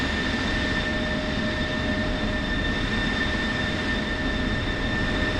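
An F-16 jet engine starts up in the DCS flight simulator, a steady, loud whine and roar with constant high tones held over a broad rumbling hiss and no break.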